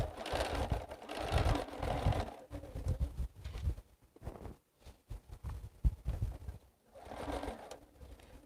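A sewing machine stitches quilt fabric in bursts of rapid mechanical whirring, stopping and restarting several times with quieter gaps between runs, close and clear.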